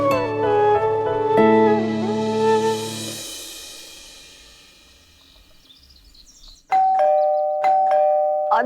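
Two-note electronic doorbell chimes ring in a descending melodic pattern, fade into quiet, then ring again sharply in repeated bright tones indoors early in the morning.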